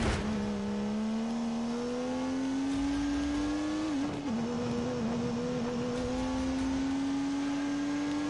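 In The Grand Tour racing game, a car with a turbocharged 3-litre straight-six holds a steady, droning engine note under load, rising slowly, dipping briefly at a gear change, then climbing again.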